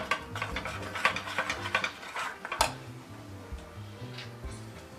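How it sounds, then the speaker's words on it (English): A soup spoon stirring peanut butter and hoisin sauce in a bowl, with light, irregular clinks and ticks of metal against the dish, close and fairly quiet over faint background music. "You stir it well."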